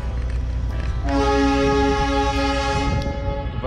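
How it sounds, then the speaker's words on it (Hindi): Darjeeling toy train near Batasia Loop sounding a loud, sustained horn blast lasting about two seconds over steady rumbling rail and engine noise. "ये ट्रॉय ट्रेन इधर चलती है, ये अभी भी चल रही है यहाँ पर।"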